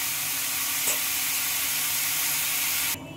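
Boiled jackfruit and potato fry in hot oil with turmeric, giving a dense, steady sizzle close by that cuts off abruptly near the end.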